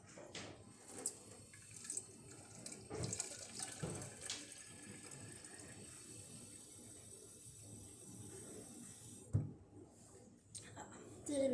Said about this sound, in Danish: Så skal jeg noget nyt vand i.